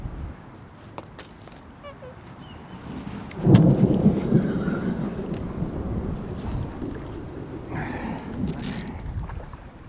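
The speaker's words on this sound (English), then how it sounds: "Oh, I got the storm rolling in on me here." A thunderstorm rolls in over a carp fishing spot in the wind, with steady rain hiss and a deep, loud thunder rumble that swells around the middle and slowly fades under the rain.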